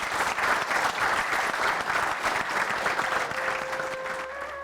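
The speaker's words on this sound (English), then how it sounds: "As the applause ended" A large audience at an Audit Diwas ceremony claps steadily after a speech. The loud, continuous applause tapers slightly near the end as a faint tone rises beneath it.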